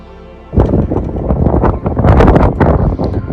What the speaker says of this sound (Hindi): भाई साहब ज़बरदस्त ठंडी हवा चल रही है।